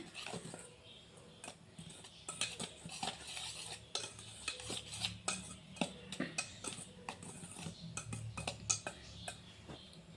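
Dry flour, cocoa powder and powdered sugar being stirred together in a bowl for an eggless chocolate cake, with a utensil repeatedly scraping and clinking against the bowl in an uneven rhythm, close up.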